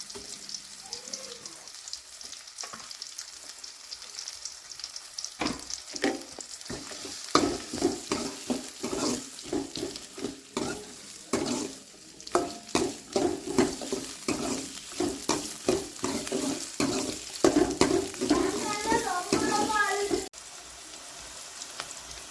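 Onion and a green chili sauté in a pan for mushroom gravy, giving a steady sizzle broken by frequent scraping stirs. The stirring builds busier in the middle and stops abruptly near the end.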